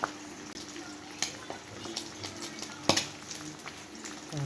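Sugar bubbling into a pot of Jamaican cornmeal porridge made with coconut milk, a steady soft sizzle with scattered pops and light clinks of a spoon or pot, close and continuous.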